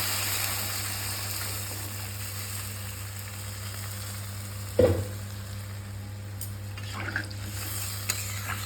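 Water goes into a pan of fried radish and potato, raising a steady sizzling hiss, with one sharp knock midway and a few light clinks afterward, alone without speech.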